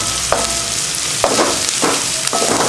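Onions sauté in oil for bottle gourd curry, a constant close sizzle broken by four distinct scraping strokes as a spatula stirs them around the pan.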